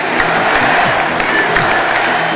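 Arena crowd at a 1997 NBA Finals Utah Jazz home game, a dense wash of cheering and applause that is loud and continuous.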